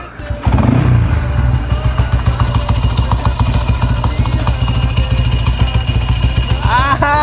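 A vintage motorcycle fitted with a dry clutch revs hard and close, its loud, throbbing engine pulsing rhythmically for several seconds with a brief rising whine near the end.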